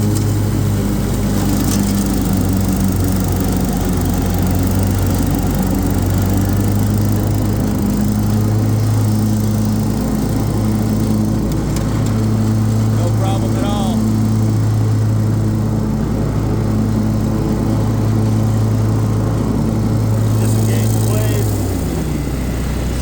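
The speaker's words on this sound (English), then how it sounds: "I'm going to go ahead and hit this heavy grass over here" A 61-inch SCAG Turf Tiger commercial zero-turn riding mower cuts through heavy grass with the deck set low, its engine a loud, steady drone that rises and falls slightly under load throughout.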